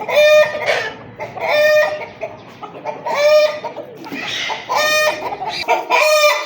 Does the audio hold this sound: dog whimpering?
no